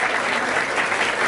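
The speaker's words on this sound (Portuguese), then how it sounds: "Palmas, palmas, palmas," Crowd at a Brazilian freestyle rap battle claps in a brief, dense burst that stays at an even loudness throughout.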